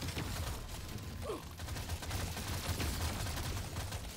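A carbine in Deep Rock Galactic Survivor fires at an extremely high rate, producing a steady, dense stream of rapid shots with mechanical clatter, moderately quiet and unbroken throughout.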